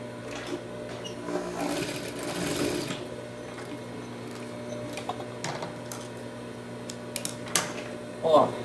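A sewing machine stitches a fabric seam on a handmade festa junina decoration, a low steady whir running quietly through the whole stretch with a few faint clicks near the end.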